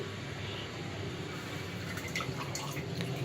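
Homemade nannari syrup dripping and trickling through a filter: a steady, continuous close wash of liquid with faint droplet ticks throughout.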